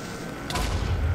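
A creeper explodes in the Minecraft video game, a single sudden burst with a broad crackling rush and low rumble that lingers to the end of the short moment.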